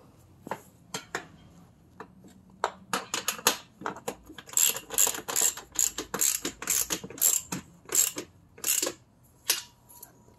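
Metal ratcheting and clanking while bolts are tightened on a Vego raised garden bed during assembly, sparse clicks at first building into a dense run of sharp, close metallic ratchet strokes.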